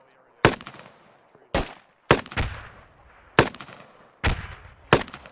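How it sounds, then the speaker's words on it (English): Gunfire in the Squad video game: six loud, sharp shots spaced about a second apart, each with a ringing tail that fades quickly into near silence. "Yeah, you guys taking fire from the northeast."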